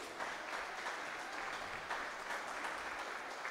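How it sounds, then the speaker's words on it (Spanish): A church congregation claps for the Lord in a soft, even wash of applause from a distance, with no single claps standing out. "Un aplauso más fuerte para el Señor"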